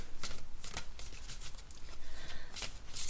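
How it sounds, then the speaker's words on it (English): Tarot cards, including planet cards, being handled and pulled from a deck, giving a steady run of close, crisp riffling and sliding card noise over about three seconds, with no talking. "I'm going to pull some tarot cards to see what lies ahead during the month of March for you"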